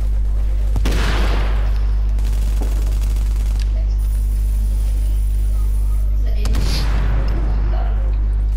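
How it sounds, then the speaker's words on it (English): Gunfire in Tom Clancy's The Division, two bursts of rapid shots roughly six seconds apart over a heavy low rumble. "I shoot him before he can go back in."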